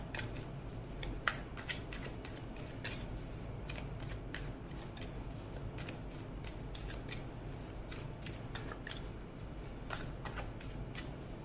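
Tarot cards shuffled by hand in a steady run of crisp riffling flicks and soft slides, close and fairly quiet, with no talking.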